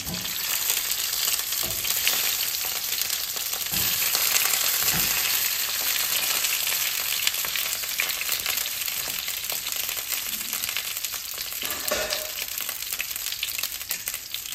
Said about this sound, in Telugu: ఈ వంకాయలు వేసేసి కొంచెం ఫ్రై చేస్తానండి